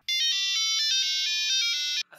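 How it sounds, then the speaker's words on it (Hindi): A phone ringtone plays loud and close, a bright electronic melody of quick repeating tones that runs steadily for about two seconds and then cuts off. "उसके चंद दिन बाद मुझे एक फोन आया।"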